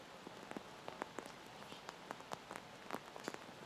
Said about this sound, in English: the rain continues to fall here in Tokyo